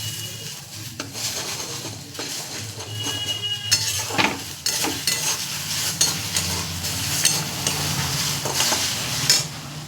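Bread bhujia being stirred with egg in a pan: steady scraping of a spatula against the pan over a continuous close sizzle, with occasional metallic clinks, no talking.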